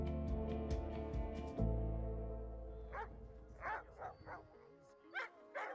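Young puppies in training vests bark and yip in playful bursts, several short yaps spread across the clip at moderate distance, following a stretch of loud low rumble at the start.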